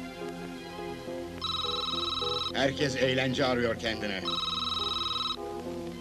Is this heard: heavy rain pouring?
no